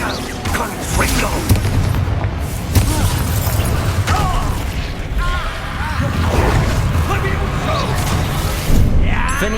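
Confringo spell blasts in the game Hogwarts Legacy: dense, loud booms and crashes roll over one another with continuous rumbling effects and music. The explosions run throughout with no clear gaps, and no talking can be picked out.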